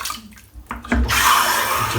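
Tap water running while rinsing after a shave, starting abruptly about halfway through the brief moment after a few soft handling noises, then a steady close splashing flow.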